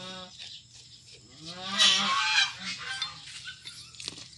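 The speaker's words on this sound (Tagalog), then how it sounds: "maingay yung gansa" A goose honks in a long series of nasal, blaring calls that swell to a loud peak and then fade into fainter honks against a low background hum, outdoors near a diesel engine being repaired.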